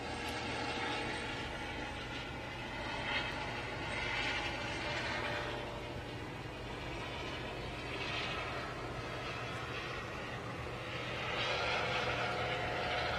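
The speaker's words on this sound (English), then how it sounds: "you can hear the helicopter overhead." Steady droning roar of a helicopter circling above the launch area near pad 39A during the SpaceX Crew-4 launch, moderately distant and continuous with slow swells in loudness, no speech.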